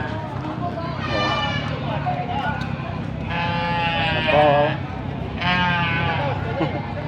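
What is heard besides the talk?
goats bleating in a goat pen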